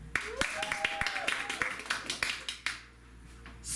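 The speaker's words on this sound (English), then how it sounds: "you can applaud as loudly as you can for that one" A small live audience claps and applauds for a vampire romance story title, producing a dense, moderately loud burst of clapping that fades out after a few seconds. Voices call out faintly underneath.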